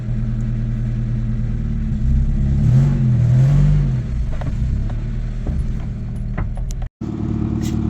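A dead-battery Honda Civic RT4WD wagon being jump-started, its engine cranking and catching, then revving up and settling into a steady idle, close and moderately loud with a brief cut near the end.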